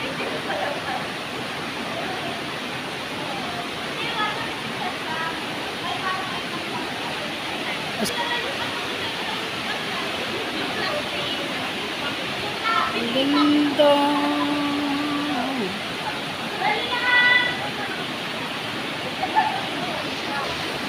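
Canding Falls waterfall heard as a steady broadband roar of falling water throughout, with people talking and faint voices over it.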